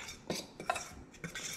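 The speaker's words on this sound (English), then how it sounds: "So put everything in the bowl, mix it all up." Quail coating of onion powder, garlic salt and panko or breadcrumbs being mixed in a bowl, with a few quiet clinks and scrapes of a utensil against the bowl in short irregular strokes.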